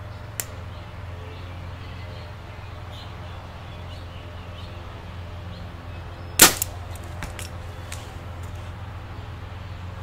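Arrow fitted with Heat vanes shot from a bow outdoors, a single sharp, brief snap with a short rattle after it, otherwise quiet with a faint steady background hum.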